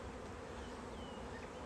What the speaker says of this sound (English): I'm literally in a cloud of bees right now.